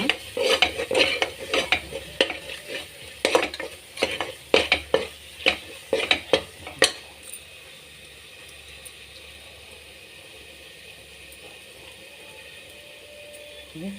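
Chilli powder, coriander powder and garam masala frying in a pan for a vegetable saagu, stirred hard: a rapid run of loud, close scraping and clanking strokes over a sizzle for about seven seconds, then a quiet, steady hiss.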